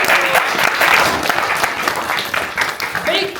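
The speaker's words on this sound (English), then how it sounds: "Give yourselves a round of applause." Loud, sustained applause from a crowd, steady clapping that fills the whole moment before tapering slightly.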